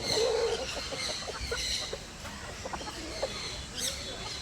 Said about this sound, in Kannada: ಎಲ್ಲ ನಾಟಿ ಕೋಳಿಗಳು